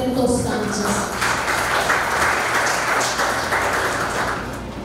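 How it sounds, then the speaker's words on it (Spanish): An audience at a scientific seminar claps steadily for several seconds, a dense patter of applause filling the room at moderate volume. "Con fuertes aplausos recibamos"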